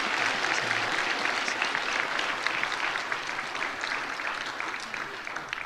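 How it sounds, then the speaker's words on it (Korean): A church congregation gives sustained applause during a worship service, a steady dense clapping that fills the room and fades only slightly toward the end. "큰 박수로 격려하겠습니다."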